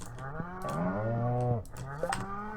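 Cows in the video game Stardew Valley moo in long, drawn-out lowing calls, several overlapping in succession, close and clear against a quiet background.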